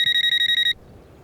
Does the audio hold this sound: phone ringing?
yes